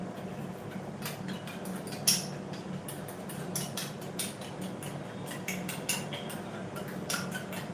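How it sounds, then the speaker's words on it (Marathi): Egg beaten in a small bowl with salt, spice mix and turmeric: quick, steady clinking of a utensil against the bowl in a fast rhythm, close and moderately quiet over a low background hum. "मी आता अंडा असा पेटळून घेते चांगला मिक्स करून घेते"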